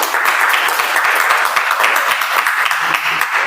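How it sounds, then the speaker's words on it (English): A dense, steady burst of applause from a sizable crowd at a Toastmasters meeting, many hands clapping continuously at a loud, even level. "let's welcome with a huge round of applause Toastmaster Saurabh as speaker number 1."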